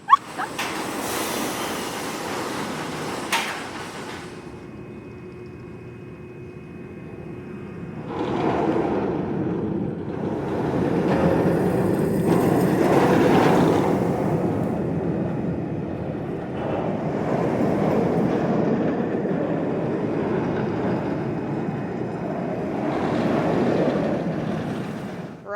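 B&M roller coaster train at Janfunsun Fancyworld in Taiwan running along its track, a sustained loud rumbling roar that swells and fades in waves as the train passes through the layout, with no voices.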